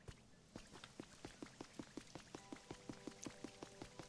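Steady, evenly paced pattering drops of rain fall in the video game Pokemon Pokopia, a soft rhythmic dripping repeated several times a second alongside a faint tonal chime.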